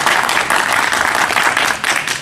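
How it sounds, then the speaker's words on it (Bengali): An audience claps steadily for a mother being honored at a gathering celebrating her son's army selection, a continuous wash of hand claps without a pause. "চাষের জন্য একটা আমরা করতালি চাই"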